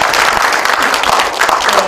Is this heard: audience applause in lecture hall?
yes